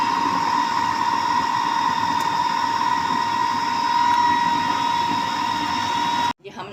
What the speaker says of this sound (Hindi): ये हम अपना चॉप कर रहे हैं कीमा।